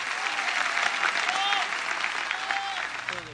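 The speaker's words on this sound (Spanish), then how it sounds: "un aplauso a la Virgen de Luján" A large crowd applauds for the Virgin of Luján, patroness of Argentina, in Saint Peter's Square at the Vatican, a steady dense clapping with a speaker's voice and a few whistle-like tones carrying over it.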